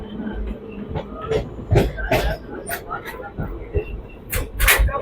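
A train slowing down on the Rayakottai to Bangalore route rumbles along with rhythmic clacks and squeals from the rails, steady and close, while people talk over the noise.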